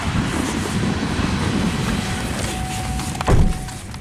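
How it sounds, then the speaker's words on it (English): Freight train rolling past on tracks, a close, loud continuous rumble with clattering wheels and a brief metallic squeal and thump near the end. "The first car in that train is brand new."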